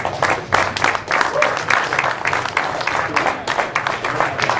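Audience applauding at the SpiderTech 2011 cycling team launch event, a sustained dense clapping from a crowd that fills the room at steady loudness, with voices mixed in.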